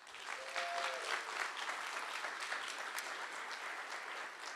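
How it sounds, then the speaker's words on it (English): An audience at a meeting claps steadily in a round of applause, sounding moderately distant and sustained, with faint voices mixed in. "Round of applause."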